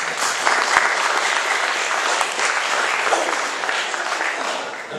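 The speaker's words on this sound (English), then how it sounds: "Everybody clapping now" Sustained applause from an audience at an evening talk at the Weird Weekend 2010 event, a dense, steady wash of many hands clapping at even loudness throughout, with no voices over it.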